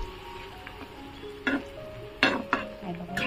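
Onion cooks in oil in a pan on an Indian home stove, giving a soft, steady sizzle, with a few sharp clinks and scrapes of a stirring spoon against the pan.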